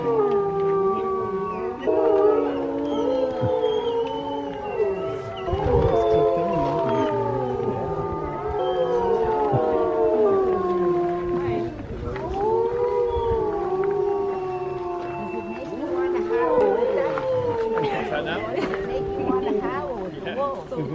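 Several wolves howl together at a wolf preserve in Columbia, New Jersey, in a long, overlapping chorus of rising and falling wails, fairly close and sustained throughout.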